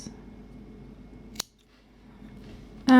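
Scissors snipping excess yarn while crocheting a mini granny square bracelet: a sharp close snip midway and another crisp cut at the end, with quiet handling noise between.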